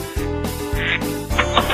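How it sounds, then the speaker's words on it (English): Several ducks quack in a loud, dense burst of raspy honking calls indoors in a living room, backed by continuous music-like tonal sound throughout. "We'll be right back after Bob gets the ducks out of his living room."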